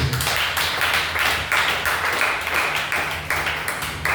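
A church congregation claps together in a quick, steady rhythm of sharp, close hand claps that keeps going without a break.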